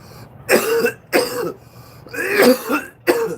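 Several harsh coughs and throat-clearing bursts in quick succession, close and loud, separated by short pauses.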